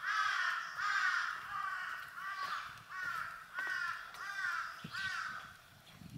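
Several crows caw in a forest along a hiking trail at Jeolmul Oreum, harsh repeated calls in quick bursts of two and three, fairly near and clear, with a quiet woodland background and no talking.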